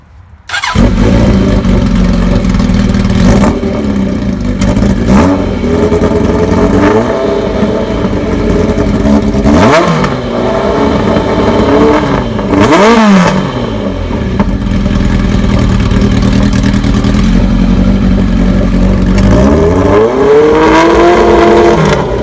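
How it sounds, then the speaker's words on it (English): A 1985 Kawasaki ZN1100 LTD motorcycle engine cranks and fires, then idles loudly and steadily, with several sharp revs blipping up and falling back throughout. "We're going to start it up right now, and we're going to see if the charging system works or not."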